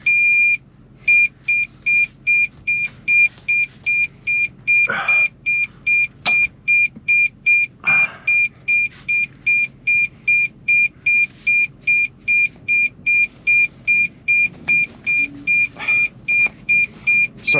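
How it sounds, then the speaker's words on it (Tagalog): A truck's battery warning alarm beeps in a fast, regular on-off pattern of high electronic tones that keeps going for the whole stretch, with a low engine hum underneath and a few faint knocks. "Ay, nag-alarm na yung aking ano."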